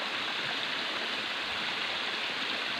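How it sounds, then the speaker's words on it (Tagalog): Hot spring water at Manleleug Hot Spring in Mangatarem, Pangasinan, tumbles and flows downhill in a steady, even rush of water with no voices over it. "dyan babagsak yung tubig na mula dito sa taas ng Manluluwag Hot Spring."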